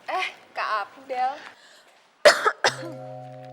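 Voices speak briefly, then two sharp coughs ring out close by, followed by a steady tone.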